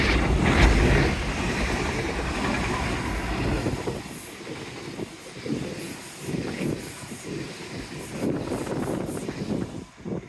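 A modern passenger train runs along the Dawlish seawall, a loud, continuous rumble and wheel noise close by that fades slightly toward the end, with sea and wind in the background.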